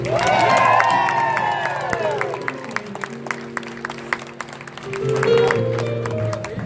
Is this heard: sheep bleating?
no